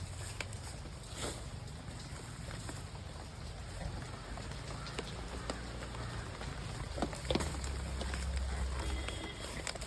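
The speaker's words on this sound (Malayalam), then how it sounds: "ചെറിയ പൊടിമഴ പെയ്യുന്നുണ്ട് കേട്ടാ." Light drizzle falls outdoors while fallen kudampuli (Malabar tamarind) fruits are gathered in the monsoon season, a soft, steady hiss of fine rain with scattered faint drop ticks, no voices.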